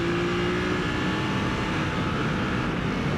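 A Ducati Monster SP motorcycle on a track day accelerates hard out of a corner, a loud continuous engine roar under heavy wind rush, with no voices.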